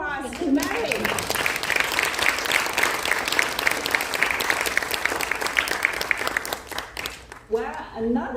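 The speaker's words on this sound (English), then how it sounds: "So let's give another round of applause to Mary." A Toastmasters district conference audience gives Mary a full round of applause, a dense sustained wash of many hands that fades at the end, with voices briefly audible around it.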